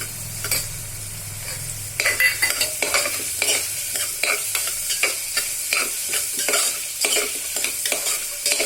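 Carrots sizzle and fry in a pan while a utensil stirs and scrapes in quick, repeated strokes, close and continuous.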